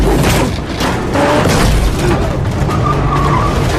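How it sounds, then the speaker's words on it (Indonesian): A car skids while ramming an army vehicle in a film chase, a loud, close rush of tire and engine noise with rough scraping bursts and a thudding impact. "Beruntung Kang berhasil menyingkirkan mobil tentara itu dengan menabraknya beberapa kali."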